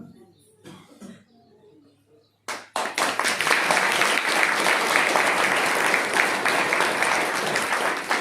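Applause bursts out in an audience at a Hindi spiritual discourse on Dev Uthani Ekadashi, loud and steady for several seconds after a quiet opening with a few faint coughs and rustles.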